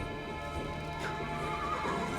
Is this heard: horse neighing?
yes